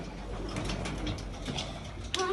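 Pigeons in a loft coo softly in low, murmuring calls over a steady background hiss, with a brief flutter near the end.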